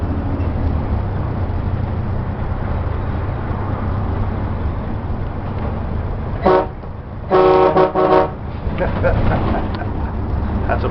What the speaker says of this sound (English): Got a heck of an air horn on it.